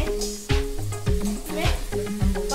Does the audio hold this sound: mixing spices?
yes